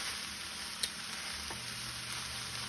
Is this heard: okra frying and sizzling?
yes